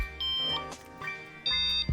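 A Boundary home alarm hub sounds two clear, steady electronic beeps about a second apart while the alarm is being set, close and alone with no talking.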